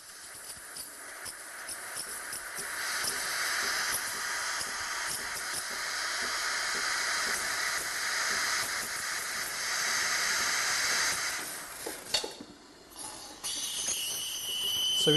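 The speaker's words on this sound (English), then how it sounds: "As soon as our espresso shot is finished, we engage the steam." Steam wand of a Sage Barista Express espresso machine hissing steadily and loudly up close, with the pitch shifting slightly as the milk is textured and a short break in the hiss near the end.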